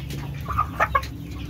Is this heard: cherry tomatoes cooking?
no